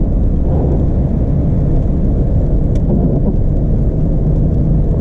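Rain falls heavily on a Corsa GL 1.6 car. A dense, continuous roar of water and road noise fills the clip, with a faint rumble underneath and one brief sharp crackle partway through.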